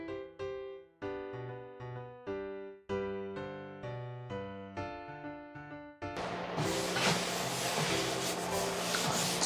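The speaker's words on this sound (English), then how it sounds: "I'm gonna start sanding and just go with it." A series of plucked musical notes gives way to steady, rasping sanding that continues close up and unbroken until the end.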